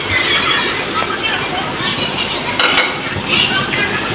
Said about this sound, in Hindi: और अब मैं डालूंगी इसमें मेथी